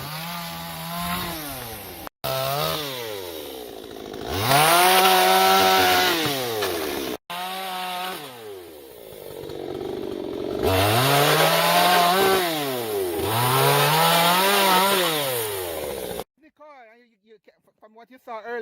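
Power saw running on a Jamaican farm: revving, rising and falling whine in repeated bursts, fairly loud, then cutting off into quiet near the end, with voices at times.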